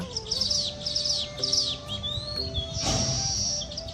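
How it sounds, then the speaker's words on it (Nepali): A male weaver bird sings to attract females, a series of quick, repeated high chirps and sweeping notes close by, over a faint steady hum. "उसले पोथीहरूलाई आकर्षित गर्न विशेष आवाजमा गीत गाउँछ"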